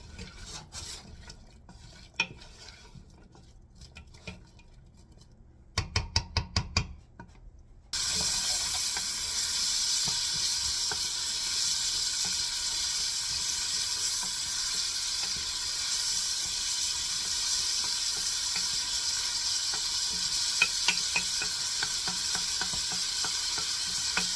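Onions sautéing in a pan for Hungarian lecsó: a few quiet clinks and taps at first, then a loud, continuous sizzle sets in and holds steady to the end.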